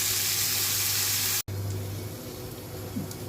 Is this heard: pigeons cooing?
no